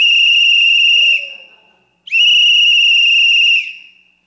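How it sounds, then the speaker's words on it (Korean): A whistle is blown loudly twice, each a long, piercing, steady blast lasting over a second, separated by a short pause. "호루라기 확 부르면 이 소리가 너무 커가지고"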